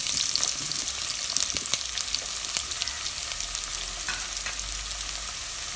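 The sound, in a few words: chopped onions frying in oil for veg kurma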